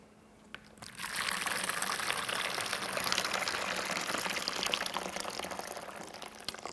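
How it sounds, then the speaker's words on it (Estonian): Warm water pours steadily into a bowl to melt fat, a continuous splashing rush that starts after a brief quiet and keeps an even level throughout. "selle sulamiseks valame ühte kaussi sooja vett"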